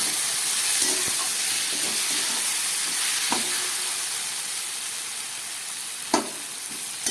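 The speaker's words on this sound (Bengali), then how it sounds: "দেখুন কত সুন্দর ভাজা ভাজা হয়ে গেছে পোস্তটা।" Ridge gourd and poppy seed paste sizzling in a pan, a steady close hiss of frying with a few soft clinks and stirring bumps scattered through, no voices.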